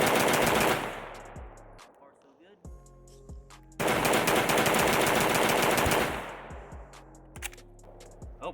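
Pioneer Arms 556 sporter underfolder AK fired in two long, loud bursts of rapid shots separated by a short pause, with a few scattered single reports and ringing echoes between and after the strings.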